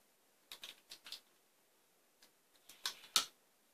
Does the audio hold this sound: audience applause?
no